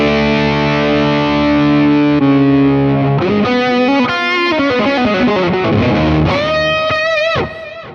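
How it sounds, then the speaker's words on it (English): Distorted electric guitar tone on a Fractal FM3/FM9 modeler: long sustained chords followed by a run of quick picked notes, then a final ringing bend that cuts off, loud and close, no voices. "Let's try with a distorted sound."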